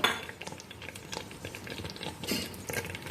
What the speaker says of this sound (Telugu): అది అలాగా లైట్గా ఒకసారి కలుపుదాం